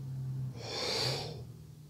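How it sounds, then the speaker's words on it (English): A sharp breath drawn in around a couple of fingers held in the mouth, a single airy hiss lasting under a second, close and clear over a low background hum. "If you want to try putting a couple of fingers in your mouth and breathing in around them"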